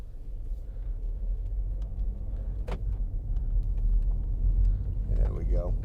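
2015 MINI Cooper D hatch with a 1.5 diesel and automatic gearbox driving in mid mode, a steady low engine and road rumble heard from inside the cabin with a person talking over it.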